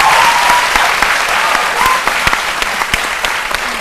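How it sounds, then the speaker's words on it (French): Loud, dense applause from a studio audience on a French midday TV show, a steady wash of many hands clapping with no voices over it. "Il mérite d'être applaudi, ce garçon."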